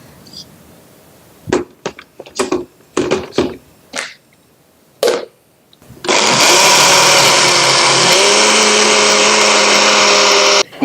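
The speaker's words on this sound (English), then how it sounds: "Your final step to make your healthy smoothie is to blend thoroughly and make sure it's a liquid but still thick." Ingredients for a healthy smoothie clatter into a blender in a few sharp knocks and thunks, then the motor whirs loud and steady, dropping slightly in pitch as the blend thickens.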